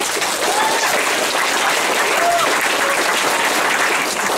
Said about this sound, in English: Clap if you think Rick would win.